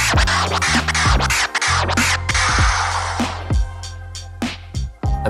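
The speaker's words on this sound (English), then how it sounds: "Pattern 5 is the one-click flare." Vinyl scratching through the scratch cutter's one-click flare pattern on a Pioneer DJM-S5 mixer, with a cut in the middle of each stroke, played as quick chopped sweeps over a steady bass-heavy beat, loud and close.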